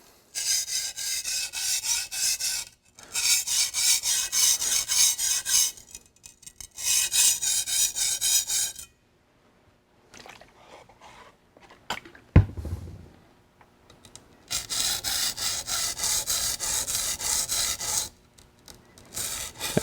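A culinary knife blade stroked on a sharpening stone in bursts of quick, steady rasping passes, close and clear, separated by quiet pauses and a single knock, with no speech.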